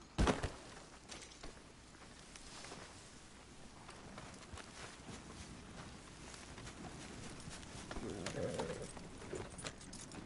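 Horse hooves clip-clop in Red Dead Redemption 2, a soft, irregular patter of steps heard at moderate distance, growing a little busier toward the end.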